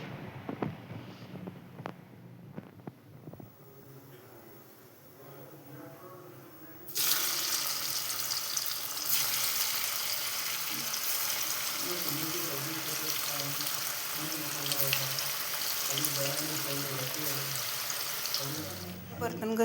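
Running tap water and clattering dishes being scrubbed at a home kitchen sink, a steady loud wash of water that starts abruptly after a quieter stretch of faint clinks and sits close throughout.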